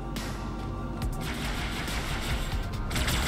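Dense overlapping gunfire in the video game Halo 2: Anniversary, a sustained burst of rapid shots and bursts against the Flood, loud and continuous throughout the short stretch with no voices.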